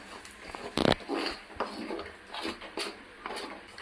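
A metal spoon mixing shev dough with hot oil in a bowl, irregular scraping and clinks with one sharp knock near the start, close and fairly quiet.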